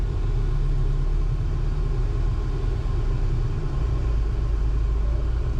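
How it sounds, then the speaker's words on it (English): A Toyota truck engine with 185,000 miles, its exhaust leak repaired, runs at a steady low rumble close by, loud and even throughout with no talking. "Sounds like our exhaust leak is gone."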